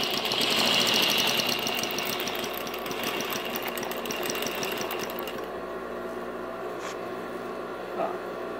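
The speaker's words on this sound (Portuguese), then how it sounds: "Este é o calcador de pregas da máquina reta industrial." An industrial straight-stitch sewing machine fitted with a pleating presser foot runs in a fast, steady mechanical whir with rapid needle chatter, loud and close for several seconds before easing to a quieter hum near the end.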